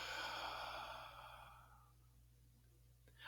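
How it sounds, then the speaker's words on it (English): A slow, steady exhale through the mouth during a guided breathing exercise, fairly close and soft, tapering off over about two seconds before a brief quiet pause. "I find it helps to breathe in through the nose and breathe out through the mouth."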